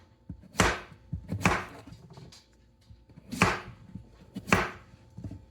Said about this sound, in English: let's chop some zucchini